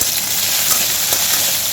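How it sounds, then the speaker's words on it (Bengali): Okra frying with whole peeled garlic cloves in a pan, giving a steady, dense sizzle that holds close and even throughout without any voices. "আর এখন আমার বরের জন্য ভাজা করছি ভেন্ডি"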